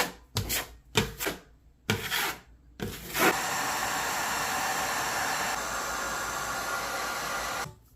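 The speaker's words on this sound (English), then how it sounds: "You're going to scrape if there's any loose stuff off." A scraper rasps over a dried drywall mud patch on a wall, first in several short, separate strokes, then in one long continuous scrape before it stops.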